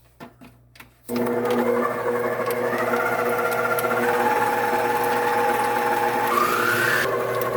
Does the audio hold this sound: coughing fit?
no